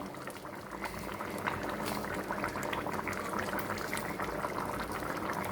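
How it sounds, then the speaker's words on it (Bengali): Katla fish kaliya curry gravy bubbles in a pot, reducing on the heat with a dense, steady simmering crackle of bursting bubbles, close and alone. "একটু ঝোলটা ফুটে আসুক, একটু শুকিয়ে তারপর আমি নামিয়ে দেবো এটা।"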